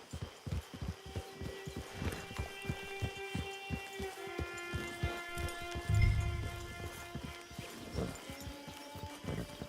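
Horse hooves clip-clopping at a steady walking pace in the Red Dead Redemption 2 video game, rhythmic close thuds over a layer of ambient background sound and music.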